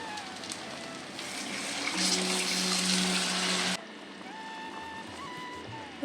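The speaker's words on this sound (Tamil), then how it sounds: "இதில் கரைச்சி வச்சுருக்க புளி தண்ணி இதை வடிகட்டி சேர்த்துக்கலாம்" Tamarind water pours steadily through a strainer into a pan for a few seconds, then stops, leaving a low background hum.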